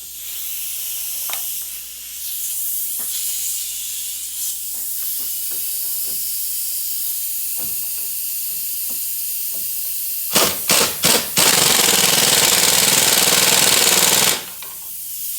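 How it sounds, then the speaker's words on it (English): An 18mm wrench tightens a sway bar link nut on a Dodge Grand Caravan minivan, heard as a close, harsh hissing buzz with a few sharp pulses and a sustained burst near the end, over a steady background hum. "Put our sway bar link nut on. Get our 18mm wrench. We'll get that tightened back up."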